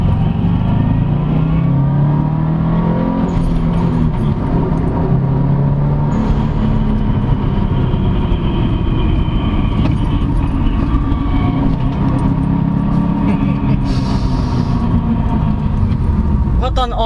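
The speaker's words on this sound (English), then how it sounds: "What an honor to drive an STi" A 2010 Subaru Impreza WRX STi hatchback with a manual gearbox drives along, its engine holding a steady loud drone with road and cabin noise throughout, while someone talks over it.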